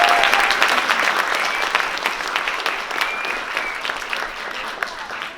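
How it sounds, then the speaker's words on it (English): Audience applauding for a theater cast rehearsing a courtroom play, a dense steady wash of many hands clapping that fades slightly over about five seconds, with no voices on top. "I wanted to give them a big applause"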